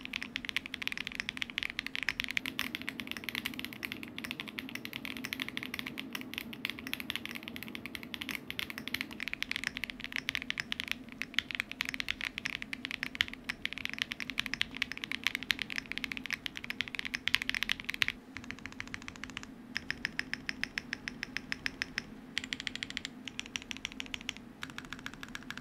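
Steady close-up typing on a Zoom65 V3 mechanical keyboard with a silica gel mount and Ivy Ash keycaps, dense rhythmic keystrokes for the whole stretch, with a slightly sparser, more even passage near the end and no talking.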